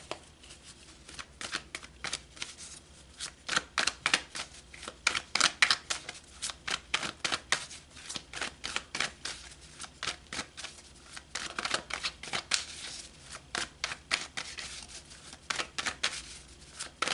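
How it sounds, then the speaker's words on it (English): Tarot cards are shuffled close up, giving a long run of quick, crisp riffling and snapping bursts in an irregular rhythm, alone with no talking. "So let's pull some more cards."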